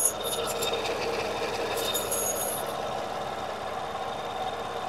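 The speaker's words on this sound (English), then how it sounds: "With the engine running." A Toyota Solara engine idles steadily with a low continuous hum and a faint high whine, close by and unchanging, with a few light clicks early on.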